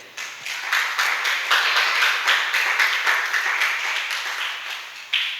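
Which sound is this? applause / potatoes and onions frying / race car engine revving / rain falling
applause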